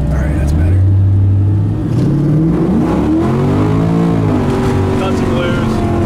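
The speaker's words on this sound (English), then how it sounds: "That was just complete tire spinning through first, second, and third." An LS-powered 1980 Camaro roars hard through several gears, its engine climbing and shifting while the tires spin, loud and close from inside the car.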